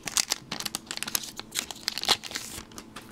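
Japanese Cold Flare booster packs are opened by hand, their foil wrappers crinkling and tearing loudly and close up in a busy, continuous burst of rustles with no talking.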